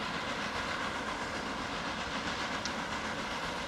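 Trains running in the video game Transport Fever, a continuous rolling rumble and hiss at steady level, with no voices.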